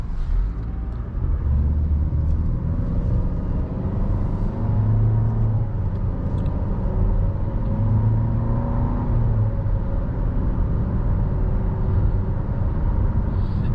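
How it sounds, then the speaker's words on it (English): A 2019 Nissan Rogue SL, its engine sounding slightly grainy, gives a steady, loud low rumble from inside the cabin while driving on the road, with occasional faint clicks. "Engine definitely sounds a little grainy"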